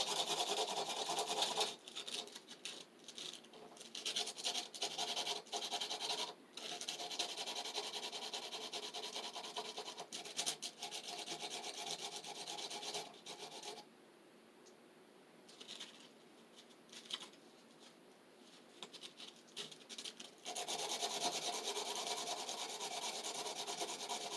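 Hand sanding of a piece, with long continuous rough rubbing strokes close up and a few brief pauses, a steady dry abrasive rasp with no talking.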